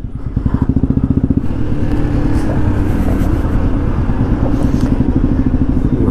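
A motorcycle with a DS3 engine rides on a Bengaluru flyover at sunset, its engine thumping loud and close in a rapid, steady pulse that settles into a continuous drone with traffic around it.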